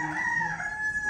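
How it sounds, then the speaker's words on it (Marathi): A rooster crows at a roadside dhaba, one short, bright cock-a-doodle-doo call, close and clear with no talk over it. "योच कोंबडा आवाज देते गे"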